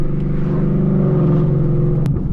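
A loud V8 engine of a 2024 Ford Mustang GT with long tube headers rumbles steadily up close with a deep, throaty exhaust note, and a brief click near the end.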